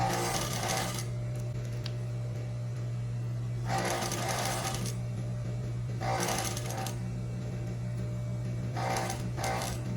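A sewing machine stitches a seam on a silky strappy tank top, its motor humming steadily underneath while short bursts of fast needle clatter come and go, close and fairly quiet.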